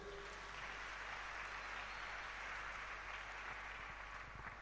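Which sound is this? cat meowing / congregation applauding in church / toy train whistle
congregation applauding in church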